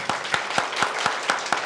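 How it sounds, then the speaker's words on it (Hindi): A church congregation claps in unison, seven sharp, evenly spaced beats in a brisk steady rhythm, fairly close and loud, with no talking over it. "ताली बजाना बजाइए अच्छे से"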